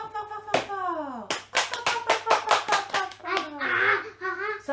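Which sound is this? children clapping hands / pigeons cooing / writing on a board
children clapping hands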